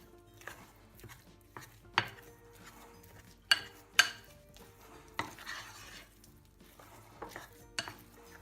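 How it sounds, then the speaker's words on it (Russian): A spoon working flour into curd batter for syrniki in a bowl, soft scraping and stirring broken by several sharp knocks against the dish, close and without talk. "Так частями будет легче нам размешивать."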